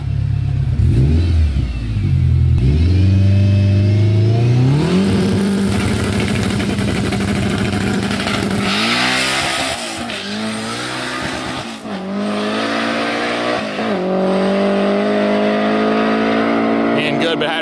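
A stock K24 drag race car with 540 horsepower launches hard on slicks, its engine revving and climbing through rising gear pulls with tire noise, loud and close, while a voice talks over it.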